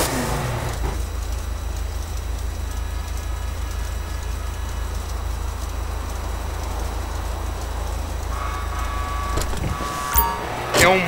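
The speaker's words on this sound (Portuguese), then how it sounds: "Fica um baita ronco." Modded car in GTA 5 with a loud engine roar, a steady heavy low drone that runs unbroken through the whole stretch, with a few brief higher sounds near the end.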